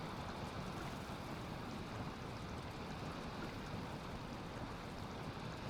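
Continuous rain in the Valheim video game, a dense, even hiss and rumble heard from indoors, unchanging throughout with no talking over it.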